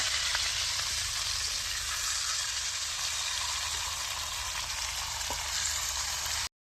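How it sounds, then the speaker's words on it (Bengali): Fish fries in a pan with a continuous close, even sizzle and crackle that holds steady throughout, with no voices. "মাছটা প্রায় অনেকটা বাজা হয়ে গিয়েছে মাছের কালারটা বেশ সুন্দর হয়ে গেছে"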